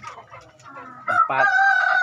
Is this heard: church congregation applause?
no